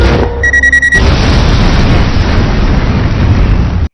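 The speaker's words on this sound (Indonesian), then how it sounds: "mobil itu meledak" A massive, roaring explosion of a car in a film erupts after a brief electronic beeping, its low rumble and crackling debris filling the clip loudly until it cuts off.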